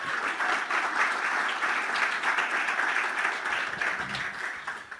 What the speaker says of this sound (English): let's give one more round of applause to all of our contestants